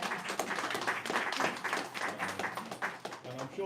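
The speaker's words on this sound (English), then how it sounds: "I think actually it deserves a round of applause." Steady applause from a crowd, a dense wash of clapping that carries on throughout.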